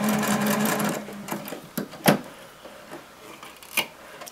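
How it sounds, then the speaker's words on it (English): A sewing machine stitches the overlapping ends of a folded 2 by 3 inch fabric piece for a stuffed animal's hair bow, running in a steady close whir for about a second and a half before stopping, followed by a few small clicks and handling noises. "I'm just gonna go ahead and sew where those ends overlap."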